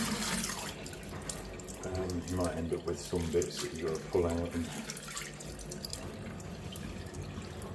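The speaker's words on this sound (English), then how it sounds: "So hot water will just run that away down the sink" Hot water runs steadily from a tap into a kitchen sink while rinsing out sourdough starter, a soft continuous splash heard under a person speaking.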